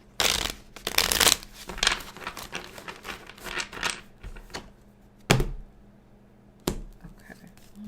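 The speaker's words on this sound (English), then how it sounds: "I'm shuffling." Tarot cards being shuffled by hand, a run of dense riffling and flicking bursts over the first few seconds, then two sharp isolated card snaps later, fairly close and moderately quiet, with no talking.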